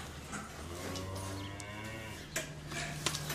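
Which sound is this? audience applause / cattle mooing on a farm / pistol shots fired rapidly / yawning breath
cattle mooing on a farm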